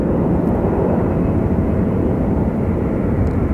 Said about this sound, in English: it looks like we have a Star Alliance plane over there